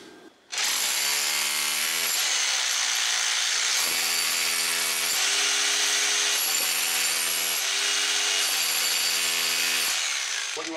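A power tool chases a socket groove through surface plaster on a brick wall. Its loud, continuous grinding whine rises and falls in pitch as the load changes, in several sustained passes with brief dips between them.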